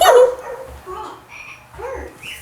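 Electronic barking from a children's toy dog, a few short synthetic yaps in quick succession, close and moderately loud with no one talking over them.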